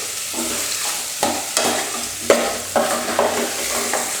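Pork bones are stir-fried in a pan with a continuous sizzle broken by several sharp scraping knocks of the spatula against the pan, close and loud, with no talking.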